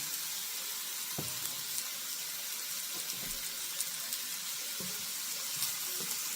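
Onions fry in cooking oil in a pan, a continuous bright hiss of sizzling with a few soft knocks and clicks, close and fairly even throughout.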